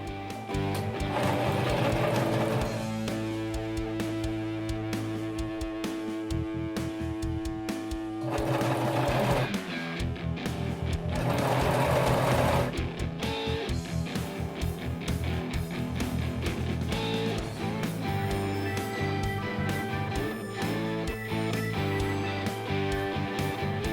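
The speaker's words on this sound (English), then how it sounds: "Now I get to serge the side pieces to the back." A serger runs in long whirring bursts while stitching the side pieces of a bike jersey to the back panel, its motor humming loudly with brief pauses between runs.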